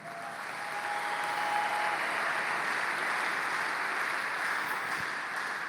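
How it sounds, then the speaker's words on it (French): A church congregation applauding, a sustained wash of many hands clapping that swells and holds steady throughout, filling the room without pause. "Acclamons le Seigneur."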